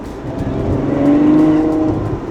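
A Ferrari's engine revs while driving, a loud, close growl that climbs in pitch to a peak and then eases back, heard from inside the car.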